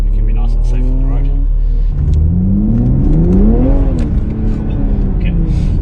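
Powerful car fitted with a Pedal Commander PC10-BT throttle controller accelerates hard as the pedal is floored, its engine note climbing in a rising, loud rev that swells, peaks and eases off, heard close up from inside.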